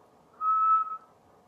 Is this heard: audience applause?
no